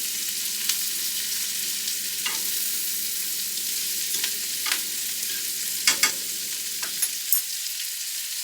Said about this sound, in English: I'm mixing this in while the meat browns